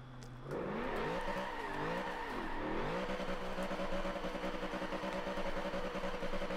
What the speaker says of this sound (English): 232 miles an hour out of a 50-year-old Ford Lotus Cortina